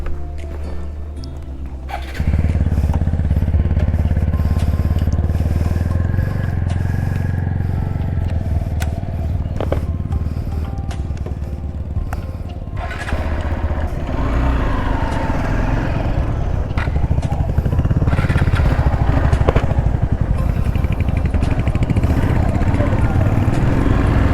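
A motorcycle cruising on a ride toward Dandeli, its engine droning steadily at speed with wind rush, rising slightly in pitch partway through, continuous and close throughout.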